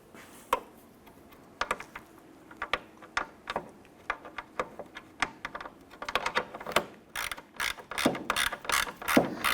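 Ratchet tightening a nut on 1993-1997 Ford Ranger headlight trim molding gives a run of crisp, close clicking strokes, sparse at first, then quicker and denser toward the end, with no voices.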